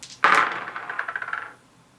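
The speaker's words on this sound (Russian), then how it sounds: "я три черных кубика бросаю" Three small black dice from the Star Wars: Rebellion board game clatter onto a hard surface, a sharp initial hit followed by a quick run of rattling taps that fade out within about a second.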